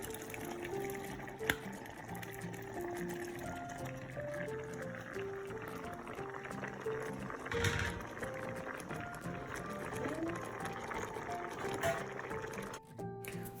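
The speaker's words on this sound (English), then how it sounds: "I'm just giving it a good stir right now because I just added the pasta" Pasta being stirred in a pan, heard as soft liquid sloshing and wet scraping that continue steadily under a quiet background tone, close and fairly faint with no talk.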